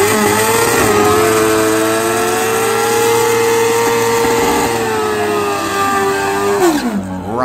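A loud, high-revving pro stock drag motorcycle engine holds a steady screaming pitch for several seconds at a drag race launch, then cuts off abruptly near the end.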